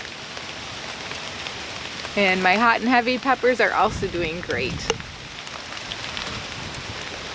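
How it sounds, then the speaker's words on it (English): Light rain patters steadily in a suburban backyard garden in late July, a soft close drizzle on leaves and surfaces that runs throughout while someone talks briefly in the middle. "it's starting to rain on me now"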